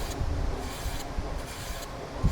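Steel wool scraping down a wooden table finish during refinishing, a steady close rasping rub with brief louder strokes, no talking.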